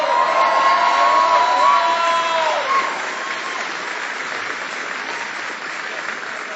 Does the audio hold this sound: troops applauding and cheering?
yes